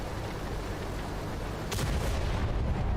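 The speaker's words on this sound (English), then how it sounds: "Aim at the flattest part of that metal ring with your heat round and fire." A tank cannon fires a HEAT round in World of Tanks on console, a single sharp blast partway through followed by a rumbling tail over a steady engine drone.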